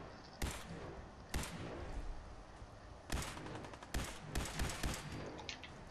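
Gunfire in Fallout 4 rings out as a handful of sharp, loud shots spaced irregularly over a few seconds, with reverberating tails between them and no talking.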